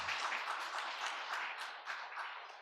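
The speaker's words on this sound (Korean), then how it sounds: "박수 한번 칠까요?" A congregation at a Christmas church service claps together. The applause is soft and fairly distant, a steady patter of many hands lasting a few seconds.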